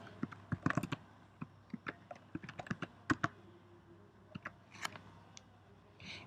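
Project name typed on a computer keyboard: a quick run of crisp, close keystrokes in irregular bursts, with brief pauses between clusters and no talking.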